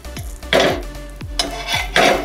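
Patishapta pitha turned in a frying pan with ghee, a few sharp clinks of a spatula against the pan between soft sizzling bursts.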